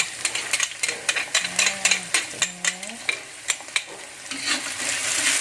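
Chili and garlic being stirred with oyster sauce in a pan, a spatula scraping in repeated uneven strokes over a steady sizzle, close and moderately loud, with a couple of brief tonal squeaks from the utensil.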